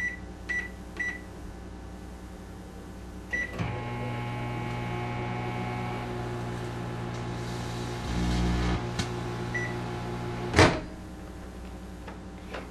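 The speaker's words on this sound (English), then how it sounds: "Insert the grape into your microwave" A microwave oven runs with a grape inside: a steady loud hum starts after a few beeps, with brief crackling bursts and a sharp loud snap near the end as the grape sparks into plasma.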